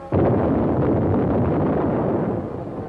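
Archival wartime explosion destroying a Ukrainian power station during a scorched-earth retreat, heard as a loud, sustained low rumble and roar lasting nearly three seconds before tapering slightly, with no voices.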